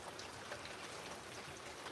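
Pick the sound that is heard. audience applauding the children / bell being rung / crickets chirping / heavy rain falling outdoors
heavy rain falling outdoors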